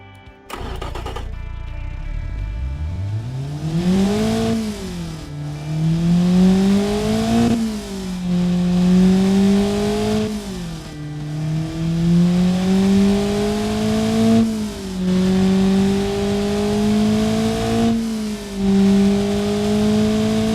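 Honda D16A engine replica revving repeatedly, pitch rising and falling in several sustained sweeps after a brief startup burst, loud and close with no voices.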